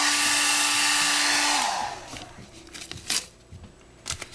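A heat gun blows over a Yamaha R6 motorcycle tank during clear-coat restoration, a loud steady whoosh that cuts off partway through, followed by faint scattered rustles and small handling sounds nearby.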